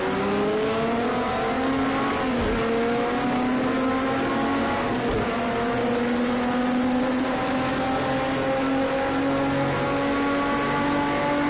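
Several race car engines from the racing video game Project Cars 2 roar continuously, with layered rising and falling engine tones as multiple cars accelerate and shift around the track, loud and steady throughout.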